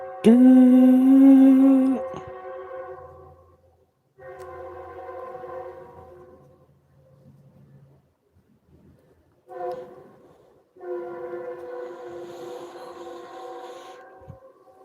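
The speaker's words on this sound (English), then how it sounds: "The train." A train horn sounds in several long, loud blasts separated by pauses, with a low rumble of passing rail cars beneath.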